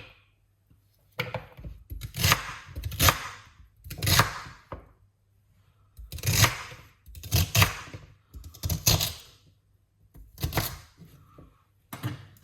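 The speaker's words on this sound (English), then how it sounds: "So just cut up the celery." A kitchen knife chops fresh celery on a cutting board in quick bursts of crisp, close taps separated by short pauses.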